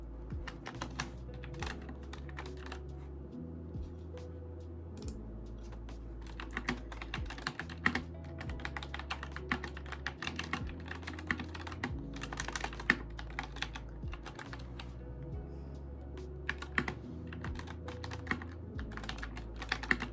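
Steady typing on a computer keyboard while writing a story chapter late at night: quick, close key clicks in an irregular flow over a low, soft background hum, with no talking.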